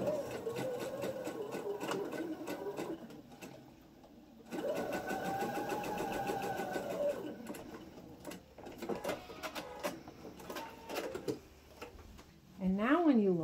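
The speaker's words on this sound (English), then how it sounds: "You're going to put that in your machine and sew a 1/4 stitch down, 1/4 inch stitch right down the edge of this." Sewing machine stitching a quarter-inch seam along the edge of a quilt binding, a steady rapid mechanical whir in several runs with short pauses, close and moderately quiet.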